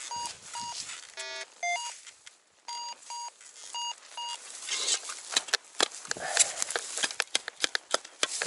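A metal detector sweeps over a target at an old abandoned village site, giving repeated short electronic beeps and tones, followed by scuffing and rustling of digging in the ground.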